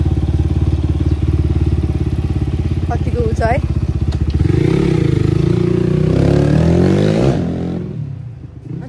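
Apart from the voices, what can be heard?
dirt bike engine running after servicing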